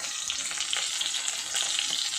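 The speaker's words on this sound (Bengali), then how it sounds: "এদিকে কিন্তু মাছ বসিয়ে দিয়েছি ভাজা" Fish sizzling and crackling in hot oil, a close, steady frying hiss with small pops, no voices.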